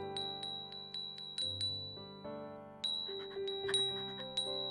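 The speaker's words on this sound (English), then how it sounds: "Do you hear the bells?" Small bells sewn on a New Year kimono jingle close by in quick bursts of bright, high, ringing tings that linger and overlap, with soft music underneath.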